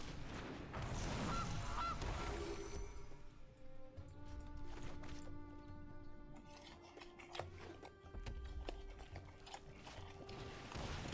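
A soft digital goose honk sounds from the Gilded Goose card in MTG Arena, mixed with faint game chimes, clicks and mechanical effects, all fairly quiet with no talking.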